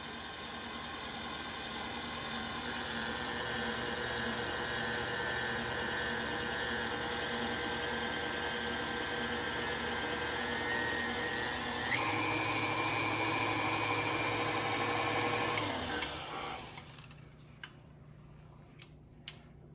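An electric mixer beats banana bread batter slowly, a steady motor whine with a rhythmic ticking rattle that shifts pitch once, then cuts out and leaves a few faint clinks.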